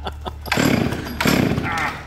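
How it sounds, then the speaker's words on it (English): A chainsaw revs in two loud, close bursts at a spooky Halloween-style scare event, with voices mixed in around it. "Who wants a chainsaw?"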